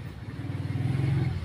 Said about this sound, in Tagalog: May ingay sa kapaligiran kung dami dumadaan ng motor talaga dito.